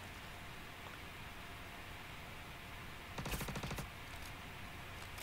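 One short burst of rapid automatic gunfire in Star Citizen, during a ship boarding, cracks out over a steady background hiss and lasts well under a second.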